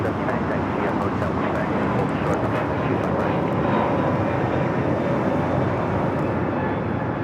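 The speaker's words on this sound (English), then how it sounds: "United A321 Neo now taking off here on the south." A United Airlines Airbus A321neo takes off from LAX's south runway, a loud, continuous jet roar with wind buffeting the microphone throughout.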